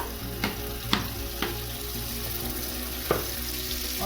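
Garlic paste frying in hot mustard oil in a pan, a steady close sizzle with a few light scraping stirs and clinks spaced through it, no voices.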